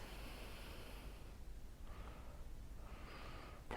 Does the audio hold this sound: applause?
no